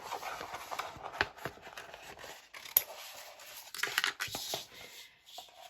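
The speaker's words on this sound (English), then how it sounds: "I'm just going to use some scissors to cut it out" Scissors snip through Cricut-cut vinyl in short, crisp cuts at an irregular pace, with soft rustling of material between cuts; quiet and close.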